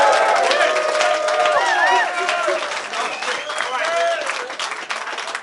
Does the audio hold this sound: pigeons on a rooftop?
no